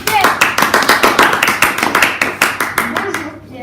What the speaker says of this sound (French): Un tonnerre d'applaudissements pour Pierre.